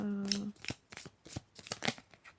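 Tarot cards shuffled and drawn during a love reading, a quick series of papery slaps and flicks up close, with a brief tone at the start and no voice over them.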